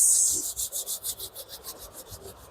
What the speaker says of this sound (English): Now rub your palms.